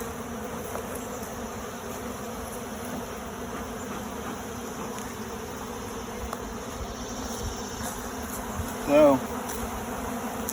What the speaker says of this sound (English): the bees are steadily robbing it out